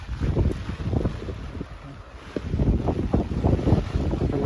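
Strong wind gusts buffet the microphone on a rainy street walk, a loud rumbling roar that dips briefly and then swells again, with no speech.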